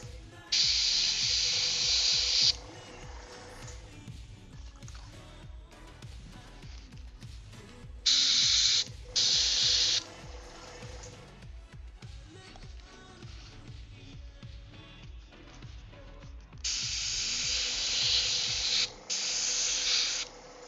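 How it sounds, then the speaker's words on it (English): An aerosol can sprays paint onto a wooden headstone on a Guild Ball miniature, in sharp hissing bursts: one long burst, then two short ones, later one long burst and one short one. Quieter handling noise fills the gaps between bursts. "I'll use a little bit of wood and spray the wooden headstone that Dirge is on"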